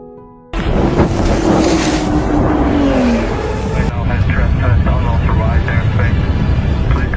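A fighter jet roars loudly and continuously overhead, a dense, rushing engine noise with a falling tone, while a voice talks over it.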